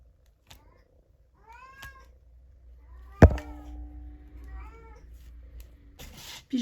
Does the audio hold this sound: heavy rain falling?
no